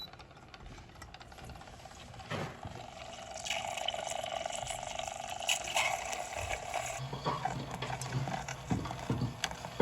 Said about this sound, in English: This cute little hot chocolate machine thing.